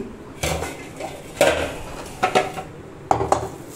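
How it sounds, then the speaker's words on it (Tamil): Seekh kebab masala mixture is stirred in a pan with a metal utensil, giving four separate bursts of clinking and scraping with quiet gaps between them. "நல்லா மிக்ஸ் பண்ணிக்கணும்."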